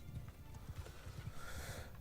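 Horses ridden by horse riders in the Bannerlord video game clip-clop in a steady rapid rhythm of hoofbeats, several animals moving together, fairly faint and alone.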